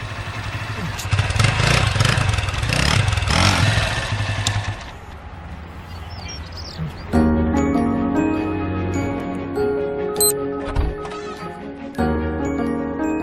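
An old, battered scooter engine running, a rough mid-pitched putter with clattering and slight revving, fading and then joined by music-like tonal sounds later on.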